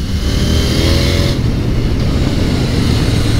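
A 2020 KTM Duke 890 R motorcycle accelerates hard with its quick shifter, a loud close engine roar that climbs in pitch, cuts briefly at an upshift, then pulls on again, with heavy wind rush.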